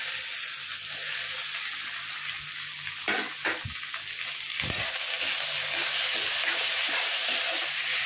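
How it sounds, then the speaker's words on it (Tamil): Tomatoes sautéing with onions in a pan over moderate heat, a steady broadband sizzle throughout with a few brief stirring scrapes in the middle, close and continuous. "கொஞ்சம் திட்டமான தீயில் வச்சு தக்காளி வந்து வதக்க விட்டோம்னா சீக்கிரமாக கரைஞ்சி வந்துடும்"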